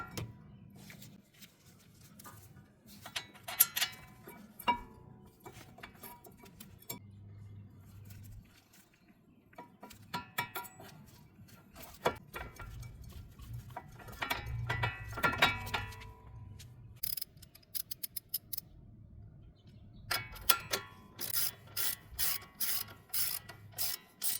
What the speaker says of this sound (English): Mount and tighten the mounting bracket onto the rotor using an 18mm socket.